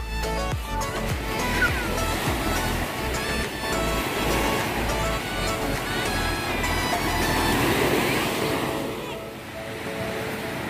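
Waves wash and surge onto the shore of Batu Hideung beach, Pandeglang, Indonesia, a continuous rushing roar with swells rising and falling, moderately loud.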